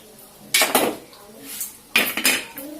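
Parts of a gas stove being taken apart during servicing, with two bursts of sharp metallic clanks and rattles separated by a quiet pause, close by.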